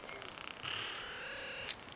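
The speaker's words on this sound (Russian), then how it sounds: "Ай, мурчишь," A limping young cat purrs close up in a quiet room, a soft rhythmic rumble lasting a couple of seconds with faint background tones and no talking.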